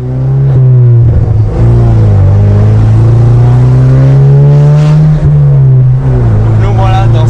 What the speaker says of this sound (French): Nous voilà dans cette Opel GT Roadster au bruit magnifique.